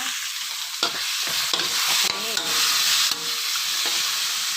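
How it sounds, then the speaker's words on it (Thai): Steady bright sizzle of fish frying in hot oil in a black pan, with sharp pops and crackles of spattering, close and continuous with no talking. "น้ำมันทอดปลากระเด็นใส่ ปลานี้นะคะกำลังจะได้ที่แล้วนะคะ"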